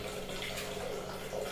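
Water is poured out of a glass in a steady, splashing stream that runs continuously for a moment, close by.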